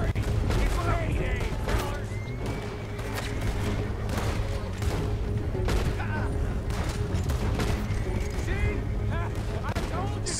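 Rapid gunfire in Red Dead Redemption 2 during a stagecoach shootout, with repeated sharp shots cracking throughout over game noise while a player talks.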